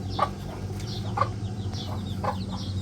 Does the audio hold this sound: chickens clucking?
yes